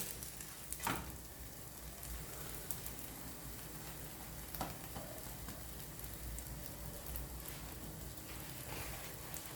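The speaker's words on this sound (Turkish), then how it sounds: "Krepleri hafif bir kızartıyorum." A soft, steady sizzling hiss of a crepe frying in a pan, with a few faint clicks and scrapes, quiet and continuous.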